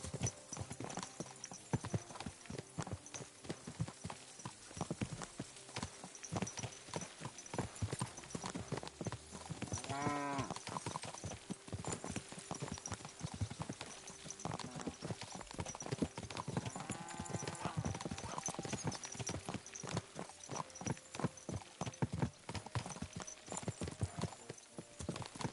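Steady clip-clop of horse hooves trotting throughout in Kingdom Come: Deliverance II, with occasional whinnies and faint voices in the background.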